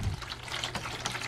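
Water pours from a half-gallon container into a seed-starting tray of cells, a steady close splashing trickle that runs for just over a second with no voices.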